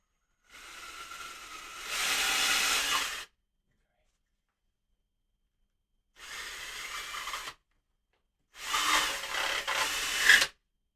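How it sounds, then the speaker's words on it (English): A power drill bores into a wooden guitar body to start a neck pocket, heard as three separate close, loud bursts of whirring and cutting, the first and last lasting a few seconds and the middle one shorter, with silent gaps between. "We want to drill into here first, and then we'll change angles."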